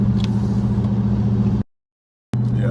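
Dodge Charger 392 Scat Pack fitted with a pedal box, its V8 engine droning loudly up close, cutting out abruptly for under a second and then resuming.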